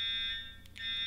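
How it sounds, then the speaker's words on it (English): A building fire alarm going off, a steady, loud electronic tone sounding continuously with a brief dip in the middle. "The fire alarm in my building is now going off."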